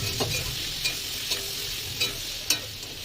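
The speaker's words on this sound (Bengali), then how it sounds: "দিয়ে আরো কিছুক্ষণ ভেজে নেবো পটলটা" Pointed gourd fries in a pan with turmeric, a steady sizzle running throughout while a utensil stirs and scrapes at regular intervals, close and clear with no voices.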